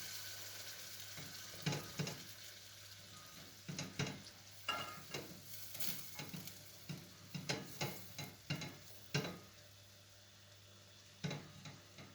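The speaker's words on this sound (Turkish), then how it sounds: "Bunları kavurmaya başlıyorum." Flour and apple pieces roast in oil in a pan, giving a soft sizzle with repeated scraping stirs that come in irregular bursts, quiet and close, with no voices.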